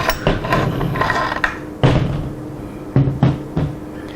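Metal bolt of a converted Beretta M38 carbine tipped out into a hand; a run of loud, close clacks and rattles of steel parts, with several sharp knocks spaced across the moment.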